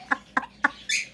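A Quaker parrot gives three short, sharp squawks at an even pace, followed by a brighter, higher screech, all close up with no talking.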